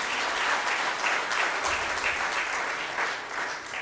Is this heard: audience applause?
yes